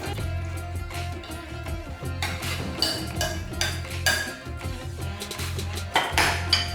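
Spicy onions tossed with ketchup in a bowl, the utensil making repeated clinks and scrapes against the dish in an uneven stirring rhythm, close and fairly loud.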